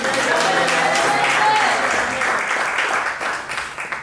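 A church congregation bursts into sustained applause during a worship service, loud and steady before gradually thinning, while a voice speaks over the clapping.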